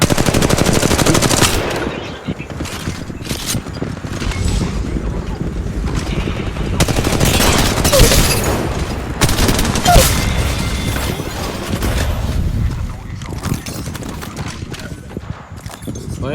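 Weapons fire in a battle-royale shooter on mobile, with dense rapid automatic bursts and single shots going on and off throughout, loud and near, with occasional voices underneath.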